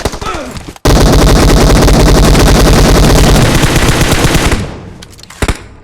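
Rapid automatic gunfire in PUBG Mobile bursts in loud and close after a brief pause, a sustained rattling stream of shots lasting several seconds before tapering into a few scattered final shots.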